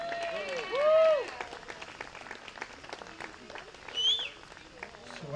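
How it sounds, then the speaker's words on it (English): Wedding guests clap in a round of applause, moderate and spread out, with voices and cheers rising over the clapping and a few louder shouts. "applause."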